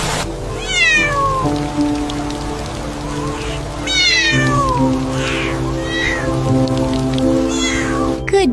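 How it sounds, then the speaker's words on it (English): A kitten meows repeatedly in a series of high, rising cries, loud and close, over a steady droning background that sounds like rain. "My precious little kitten."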